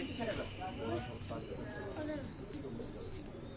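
Pigeons on a rooftop give soft, low cooing calls, close and fairly quiet, over a murmur of people talking.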